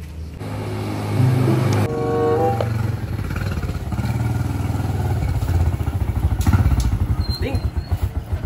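Motorcycle engine revving and idling with a rough, pulsing putter, near and fairly loud, rising and settling over several seconds with clattery mechanical tones, in a Sundanese comedy sketch about money and riding a motorbike taxi.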